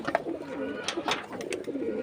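Pigeons kept on a rooftop coo softly and repeatedly at close range, their low rolling calls overlapping in a steady murmur with a few faint flutters and clicks.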